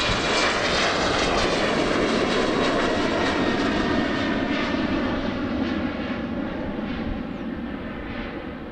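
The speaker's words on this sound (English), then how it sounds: "Still appreciate the small things, like this Embraer E190." Embraer E190 airliner engine at Amsterdam Schiphol Airport, a loud, steady roar holding throughout with a broad rushing tone, easing slightly toward the end as the jet moves away; no voices.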